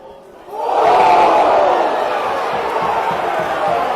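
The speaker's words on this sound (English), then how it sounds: "Crowd appeal for a high tackle" Rugby league crowd at a Halifax Panthers away match, a large roar swelling suddenly and holding loud, with shouting voices merged into a broad, sustained appeal for a high tackle.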